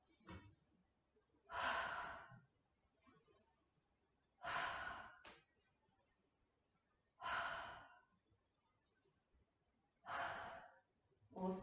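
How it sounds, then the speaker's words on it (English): Repeated deep breaths exhaled through the mouth during a yoga session for tweens and teens, heard as four strong, evenly spaced breathy exhales with quiet inhales between them, close and clear with no talking. "3 deep breaths out of the mouth."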